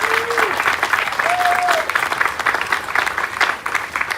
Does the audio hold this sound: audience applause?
yes